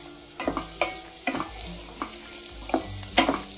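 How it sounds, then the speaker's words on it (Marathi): Garlic greens roast with onions in a pan for a broccoli almond soup, heard as repeated sharp spatula stirs and scrapes over a soft background sizzle, several distinct strokes close by. "लसूण पात पण आपण थोडं रोस्ट करू"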